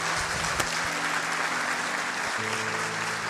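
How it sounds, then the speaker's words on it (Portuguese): A church congregation claps in a sustained, even wash of applause throughout, with a low hum of organ or keyboard tones underneath. "Dá uma salva de palmas para Jesus."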